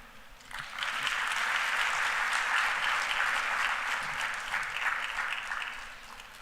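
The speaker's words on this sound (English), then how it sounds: "Another round of applause for His Excellency the French Ambassador" Applause from a conference audience for the French Ambassador at a renewable energy expo in Uganda: a sustained, dense wash of clapping that swells quickly, holds steady and begins to thin toward the end.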